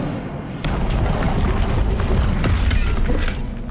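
Incendio fire spell cast in a Harry Potter game, a sudden booming whoosh of flame followed by a steady, loud roaring blast with crackling pops.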